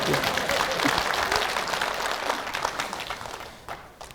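Crowd at a Korean lawmaker's constituency report meeting bursts into applause, dense clapping that gradually thins and fades toward the end.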